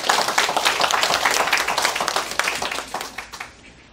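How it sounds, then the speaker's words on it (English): A seminar audience claps for themselves, dense and steady applause from many hands filling the room, then tapering off and thinning out near the end. "Come on, relax and applaud yourself."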